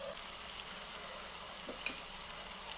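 Bonda batter with egg mixed in fries in hot oil, giving a faint, steady sizzle with a few small pops and crackles over a soft background hiss.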